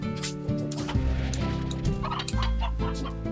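Chickens cluck and gobble repeatedly in Slime Rancher 2, a busy run of clear, close bird calls with no talking over them.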